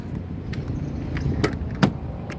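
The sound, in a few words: getting into Kia Picanto car, door opening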